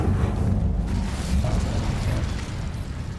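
A fire spell, Incendio, cast in the Hogwarts Legacy video game, giving a dense low roar and crackling burst that holds steady for the whole stretch with no voice over it.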